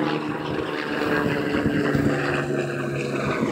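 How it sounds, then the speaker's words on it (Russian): A helicopter flies over New York City, its low, droning engine and rotor hum steady throughout, with some wind buffeting the microphone and no speech. "Теперь вертолет летит."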